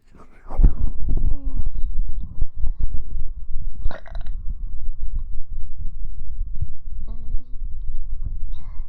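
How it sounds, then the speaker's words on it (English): Several deep, loud burps from a woman close to the microphone, each a guttural croak of about a second, with soft breathy sounds and faint mouth noises filling the gaps between them. "Sorry, I think I need a burp."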